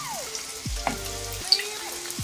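Kandharappam batter fries in hot oil with a soft, steady sizzle and a few gentle splashes as oil is spooned over the top, heard close and moderately loud.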